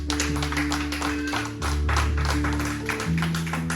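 A church congregation claps during a sermon, a fairly soft, even patter of hands over a sustained organ-like tone, continuing steadily throughout.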